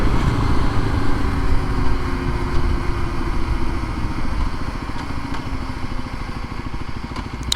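Kawasaki KLX 300 motorcycle engine, a steady loud thrumming single-cylinder drone held close throughout, with a faint rattle and no talking.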